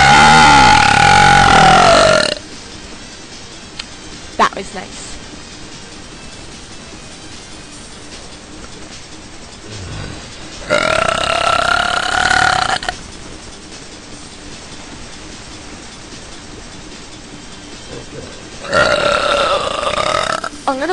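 Long, loud belches bursting out at the start and twice more later, separated by quiet stretches; one voice speaks briefly in between.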